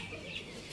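An Indo Gigante chicken clucks close by in a backyard rearing pen, a brief soft burst of clucking lasting under a second.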